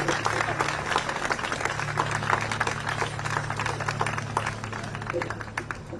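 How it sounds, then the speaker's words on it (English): Crowd applause and clapping at an outdoor Harvard protest in support of international students, a steady dense wash of hands with faint voices mixed in and a low steady hum underneath. "Let's hear another round of applause for Ray, Avinash, and Victor."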